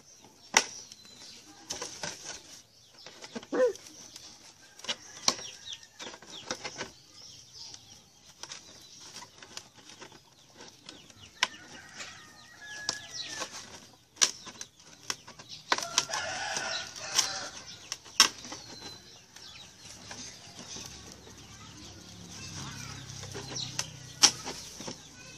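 Backyard chickens cluck and flap their wings while being fed scraps, bursts of fluttering and scattered clucks with sharp pecking clicks, moderately close, continuing for a long stretch without talk.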